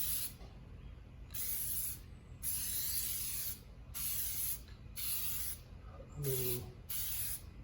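Repeated bursts of Plasti Dip sprayed from an aerosol can onto a Lamborghini, about six hissing passes of roughly a second each with short gaps, fairly close, with a brief spoken remark near the end.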